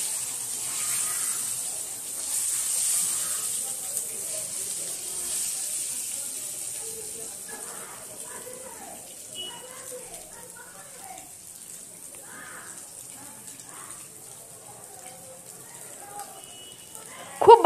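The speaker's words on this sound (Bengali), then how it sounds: "4টে ডিম আমি ভেজে নিলাম তেলে খুব সুন্দর করে" Eggs fry in hot oil, giving a steady hiss and crackle that is louder early and softens later, with soft voices talking now and then and a brief clatter at the end.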